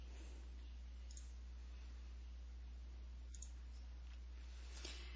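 Three faint, isolated mouse clicks tick over a steady electrical hum and background hiss, spaced a couple of seconds apart.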